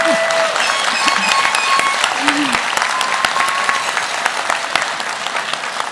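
Audience clapping at a nursing pinning ceremony, a continuous loud round of applause with a few voices and shouts mixed in, steady throughout.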